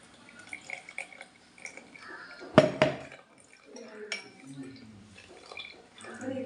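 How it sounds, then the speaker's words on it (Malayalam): Blended cucumber lemon juice poured through a strainer, with soft trickling and dripping, a couple of sharp clinks of utensils against a glass or jug, and a person talking throughout. "ഞാൻ അരിച്ചാണ് ഒഴിക്കുന്നത്."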